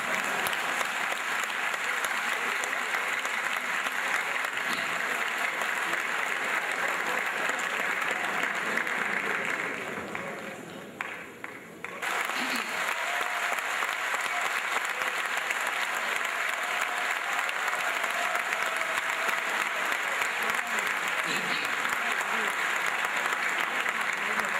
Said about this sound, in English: if you want to applaud,